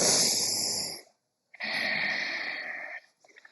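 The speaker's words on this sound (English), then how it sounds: "that is a very specific type of breathing, especially fire breathing" Forceful breathing exercise in a QiGong session: two loud, rushing breaths, one about a second long and a longer one after a pause, alone and close, followed by a few faint short puffs.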